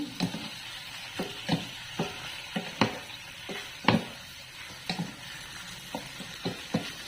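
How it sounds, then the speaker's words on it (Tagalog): Chicken in coconut milk with shrimp paste stirred in a pan, a utensil scraping and knocking against the pot in irregular strokes over a soft, steady sizzle and simmer, close and alone. "Then, mix na po natin. Halo-haloin natin."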